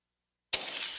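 Glass shatters abruptly and loudly as thieves trash a house, with a bright crash of breaking panes and debris following the opening silence.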